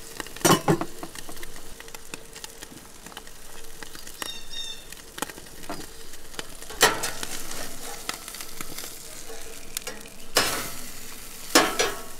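Trout grilling in a pan, a steady close sizzle with crackling pops and occasional louder spatters, no talking.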